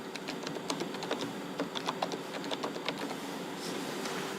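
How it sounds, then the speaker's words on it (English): Rapid, irregular keystrokes on a computer keyboard as a patient's name is entered for an OCTA eye-scan exam, close and fairly quiet over a steady background hum, with brief pauses between bursts of clicks. "We have to type the patient name"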